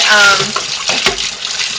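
Hot water runs from a kitchen tap to rinse out plastic lye containers, a loud close splashing gush with brief clunks, heard under someone talking.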